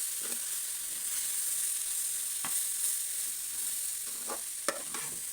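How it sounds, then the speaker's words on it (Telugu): A broad bean and egg curry sizzles with a steady bright hiss in a pan, broken by a few scraping stirs and a sharp utensil tap. "ఇప్పుడు దీన్ని మనము మంచిగా కలుపుకుందామండి."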